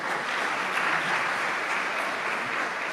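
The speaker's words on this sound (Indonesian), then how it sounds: "Tepuk tangan untuk PCNU Kota Batam." Steady broadband applause from an audience at a PCNU Kota Batam gathering, sustained and fairly even for the whole stretch, with no voices over it.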